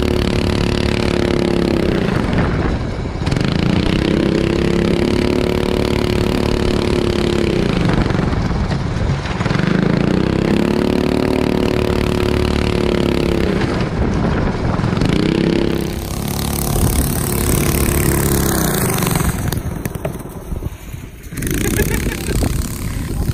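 A go-kart engine on a homemade backyard racetrack drones loudly and continuously, swelling and dipping in repeated revving cycles as it makes laps, with a faint voice near the end.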